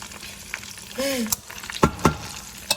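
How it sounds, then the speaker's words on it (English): Beef and chicken sizzling and frying in a pot for a palm nut stew, with soft crackles, a few sharper utensil clinks and scrapes close by. "still frying meat"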